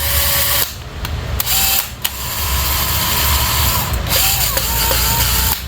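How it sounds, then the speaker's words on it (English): A tractor engine valve being lapped by hand with lapping compound, giving a steady gritty back-and-forth grinding and rasping that runs close and loud throughout, with a few brief clicks. "I've got valve lapping compound on"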